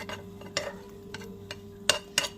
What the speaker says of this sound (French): Et je vais mélanger tout ça.